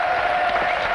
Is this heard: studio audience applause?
yes